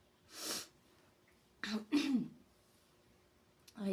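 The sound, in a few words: coughing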